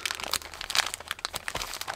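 A sticker kit package is opened by hand, its plastic wrapping crinkling and crunching in quick irregular bursts, close and fairly loud with no talking.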